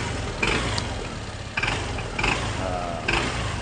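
A car engine is revved in repeated bursts, each throttle blip rising briefly above a steady, close idle rumble with no talking.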